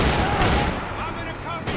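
Gunfire in the video game Max Payne 3, a dense, loud burst of shots with speech mixed in over a brief stretch.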